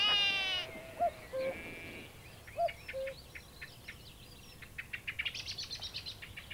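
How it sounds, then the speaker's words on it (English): Small birds chirp and cheep in short bursts, then a quick run of rapid tweets, fairly soft against a quiet background. "the twittering birds who chirrup and cheep"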